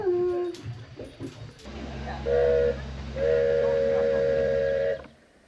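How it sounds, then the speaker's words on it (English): A steam train engine at Llanberis sounds a sustained whistle, a short blast followed by a longer one, over a low rumbling hiss after some faint background noise. "the steam engine gets repositioned for the return journey"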